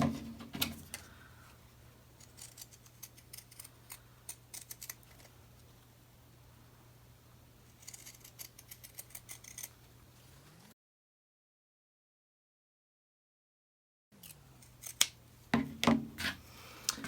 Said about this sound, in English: you're going to take your pinking shears, and you're going to just cut out around the edge